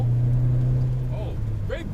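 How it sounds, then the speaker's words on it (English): A boomy car engine accelerating in third gear, its steady low drone pulling along loud and close inside the cabin, with a voice briefly talking over it near the end. "very boomy car"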